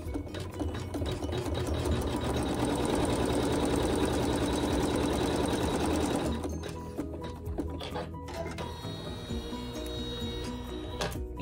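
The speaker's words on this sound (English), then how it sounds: "we're going to sew a seam" A sewing machine stitches a seam on a quilt block, a steady fast mechanical whir with rapid ticking for about six seconds, then slowing and stopping to softer clicks and handling noises.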